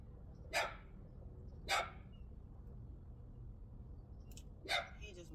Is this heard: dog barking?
yes